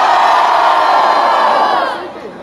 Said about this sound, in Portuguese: Barulho quem gostou das rimas de Sprat!